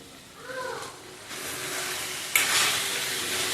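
Coriander powder being stirred into pepper chicken frying in oil: a soft, even sizzle with light stirring, then a louder scrape partway through that leaves a brighter hiss.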